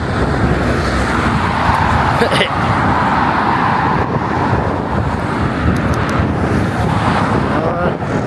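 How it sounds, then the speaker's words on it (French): Strong wind buffeting the microphone in a continuous rumble, with road traffic noise underneath and faint voices now and then. "Il y a beaucoup de vent."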